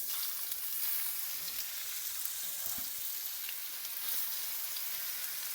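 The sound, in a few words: beef browning in vegetable oil in a pan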